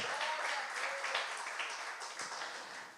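A church congregation applauds during a sermon, producing a broad, even hiss of many hands clapping at a distance, fairly faint and steady before slowly tapering off.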